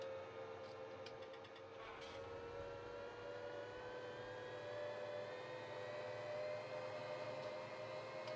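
A tractor engine in the Farming Simulator game on an Alpine map, a steady continuous drone with a rising whine, close and even throughout, with no talking.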